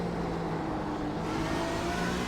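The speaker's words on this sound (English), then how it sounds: "Porsche is a bit loud" A Porsche GTE race car engine in a sim racing series at Silverstone drones loud and steady at high revs, with a constant buzzing tone and no pauses.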